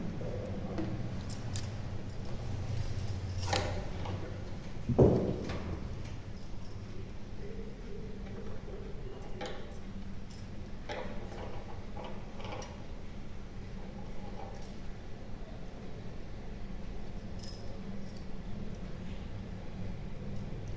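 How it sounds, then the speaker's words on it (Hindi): Cloth for a small Krishna doll's dress is sewn. A steady close mechanical whir runs with light clicks and one louder knock. "अब चलिए इसे हम सिलना शुरू करते हैं।"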